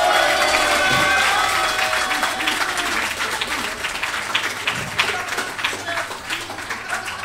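Audience at a Pokémon tournament final applauding and cheering, dense clapping that is loudest at the start and gradually thins, with voices talking over it.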